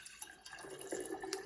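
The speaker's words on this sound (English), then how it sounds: "measure out the amount of water that I need, and then pour it into my mason jar" Water is poured into a glass mason jar, a soft, close trickling and splashing with small drips, quiet and brief with no voices.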